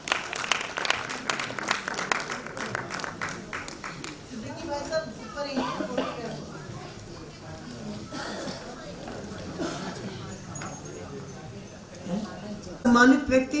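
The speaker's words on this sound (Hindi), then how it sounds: "जोरदार तालियां।" Loud audience applause fills a book launch hall, a sustained burst of clapping that swells early and gradually thins, with voices chattering underneath and a sharper burst near the end.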